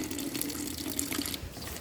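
Tap water runs steadily into a kitchen sink while a Play-Doh-style dough is being made, a continuous close splashing hiss with no talk.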